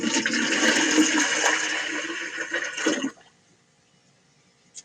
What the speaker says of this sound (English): I'm going to pour my quart in there.